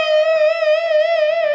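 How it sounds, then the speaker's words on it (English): A distorted electric guitar holds one bent note from a riff, shaken by vigorous, wide vibrato, sustained loud and alone. "putting in some very vigorous vibrato into the note."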